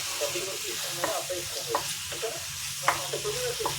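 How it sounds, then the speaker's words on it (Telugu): Chicken kheema frying in a pan while being stirred, a steady close sizzle with repeated scraping strokes of the spoon at an uneven rhythm. "ఇది బాగా వేగాలి."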